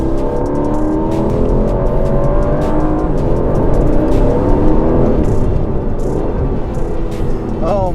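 An Aston Martin Vantage F1 accelerates hard in track mode, its engine note climbing in loud, continuous rising sweeps through successive gears, a steady roar filling the whole stretch with a quick shift near the end.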